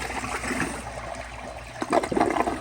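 Overfilled tank of a 2012 General De Ceramica toilet flushing after a push and release, with a steady rushing wash of water that swells into louder gurgling surges near the end, close up.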